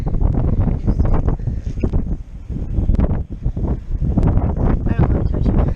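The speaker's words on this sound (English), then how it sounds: "Oh, it's so windy!" Strong wind on a Florida beach buffets the microphone in loud, gusty rumbles that run through the whole clip, with people talking over it now and then.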